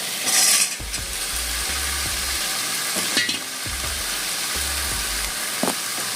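Shrimp sizzle in butter in a pan while being stirred, with bright frying hiss broken by repeated scraping and rattling strokes of the utensil against the pan, close and fairly loud, with no voices.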